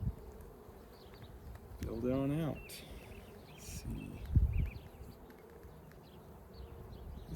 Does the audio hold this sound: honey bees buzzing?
yes